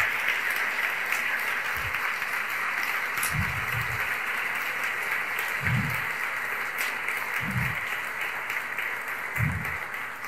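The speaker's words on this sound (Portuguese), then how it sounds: "Vamos aplaudir o Rei dos Reis, o Senhor dos Senhores" A church congregation applauds in a steady, dense wash of clapping that carries on throughout, with a few low thumps underneath and faint voices mixed in.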